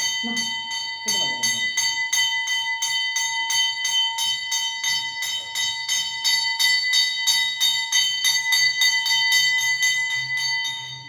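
A loud bell rings continuously with rapid, steady strokes for the whole stretch, its bright metallic tone never pausing.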